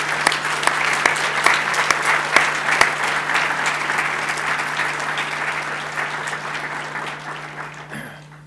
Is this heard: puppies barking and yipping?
no